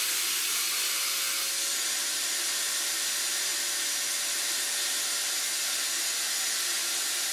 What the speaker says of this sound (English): we hook up the shop vacuum cleaner to the nozzle, hoping it would create a bit of a vacuum inside the pressure chamber